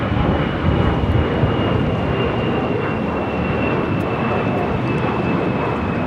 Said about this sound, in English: 844 taking off to Austin, Texas on an A320.